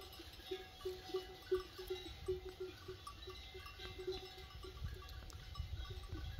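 A mountain flock of Țigaie sheep wearing bells outdoors, the metallic bells clanking in an irregular, repeated pattern at a moderate distance, quiet and faint against a soft rustling background.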